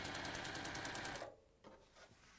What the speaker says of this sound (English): go to your little sewing machine and you will stitch